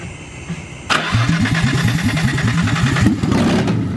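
A Nissan Skyline R33 drift car firing up for the first time after engine work: a short cranking whir, then the engine catches and settles into a loud, lumpy, pulsing idle close by.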